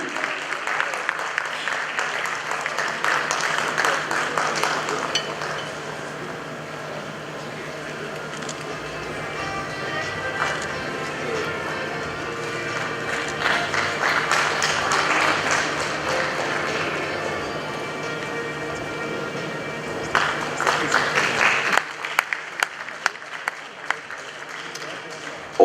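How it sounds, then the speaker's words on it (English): Audience applause at a journalism awards ceremony, a long wash of clapping from a sizable crowd that swells and fades, with a voice briefly over it and scattered sharp claps near the end. "shall we celebrate him with another big round of applause?"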